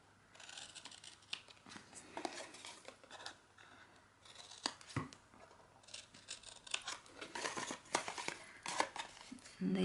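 Scissors snip through card for a Kinder Easter egg book, a run of close, crisp cuts and crinkles with brief rustles between, while a person talks over the cutting.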